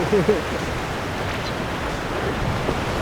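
Small ocean waves at Pranburi beach make a steady, soft wash of surf. A brief voice-like sound is heard at the very start.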